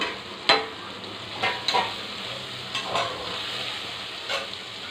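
Potatoes and chicken fry in a pan with a steady sizzle while a spoon stirs them, scraping in several short, sharp strokes.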